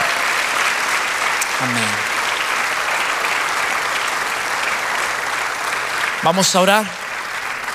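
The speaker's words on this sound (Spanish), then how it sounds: "Dele un aplauso al Señor." A church congregation applauds in a continuous wash of clapping during a sermon, with someone speaking briefly over it near the start and again near the end.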